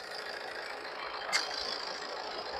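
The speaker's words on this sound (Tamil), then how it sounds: "இதுல சவுண்டு என்ன அதிகமா இருக்குதுன்னா பக்கத்துல ரைஸ் மில் இருக்கு அந்த சவுண்ட் சேர்ந்து வர" A nearby rice mill runs with a steady mechanical drone, constant and fairly loud, with one brief sharp click in the middle.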